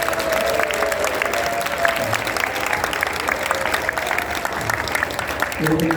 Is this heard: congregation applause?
yes